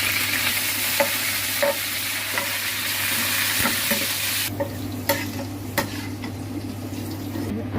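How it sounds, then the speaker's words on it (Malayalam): Green chillies and curry leaves fry in oil in a pan, a close, continuous sizzle with light taps and scrapes of stirring; the hiss softens abruptly midway, then carries on with occasional clicks. "ഇനി ഈ ചട്ടിയിൽ എണ്ണയ്ക്കകത്തോട്ട് പച്ചമുളക് കരിവേപ്പിലയും വറുത്ത് കോരിയിട്ട് ആ തേങ്ങ ജീരകങ്ങൾ വറുത്ത് പോകാം."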